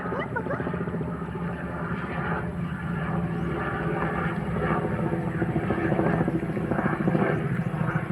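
A helicopter drones steadily at the end of an airport runway, its continuous rotor and engine hum holding near and fairly loud, with voices talking over it.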